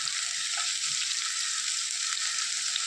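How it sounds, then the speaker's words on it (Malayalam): Chopped onions and green chilies frying in hot oil for an egg curry, a steady bright sizzle filling the whole moment with faint stirring scrapes underneath and no talk. "ഇപ്പോൾ എണ്ണയൊക്കെ ചൂടായി വരാൻ തുടങ്ങിയിട്ടുണ്ട്. ആ സമയത്തേക്ക് നമ്മൾ ഈ അരിഞ്ഞു വെച്ചിരുന്ന സബോള ചേർത്ത് കൊടുക്കാം."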